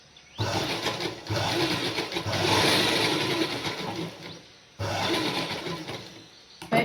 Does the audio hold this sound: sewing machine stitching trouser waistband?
yes